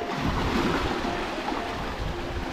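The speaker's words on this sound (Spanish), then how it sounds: "Siempre que digo sus nombres, el mar empieza a brotar." Sea waves surge and wash in a continuous rushing roar, with wind buffeting the microphone; a steady, fairly loud broadband wash with no distinct breaks and no talking.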